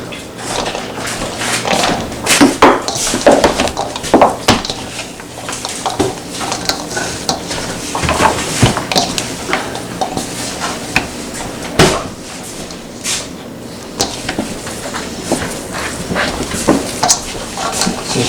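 Venison summer sausage meat is worked by hand together with cheese in a bowl, giving close, irregular squelching and slapping with occasional knocks against the container.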